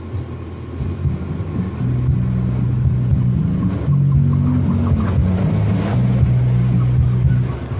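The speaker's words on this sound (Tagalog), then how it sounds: "Narinig nyo, dumaan yung sasakyan." A car passes by outside, its low engine rumble swelling and fading beneath steady heavy bass tones from a car audio subwoofer setup, moderately loud throughout.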